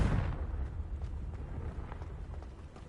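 A Confringo explosive spell from Hogwarts Legacy bursts with a low, rumbling blast that trails off into a fading boom. It sounds fairly soft and stands alone without speech.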